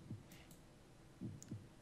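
A faint, low heartbeat in the horror game Garry's Mod: Undying, soft muffled thumps in an irregular pair-like pattern over quiet background hum, with a couple of light clicks.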